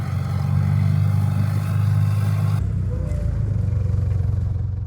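The Iveco 3.9-litre, 168-horsepower diesel engine of an Italian Puma armoured personnel carrier runs with a loud, steady low rumble. Its tone shifts partway through, as if heard from a different spot or load, and there is no speech.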